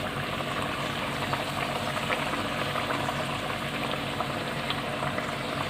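Rezala gravy simmers at a steady, dense boil with three fried chicken legs in it, producing a continuous close bubbling roar with no voices.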